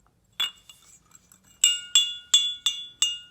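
A handmade bell with a wire clapper rings in bright metallic clinks, one strike, a few faint taps, then five clear evenly spaced rings close by with no talking.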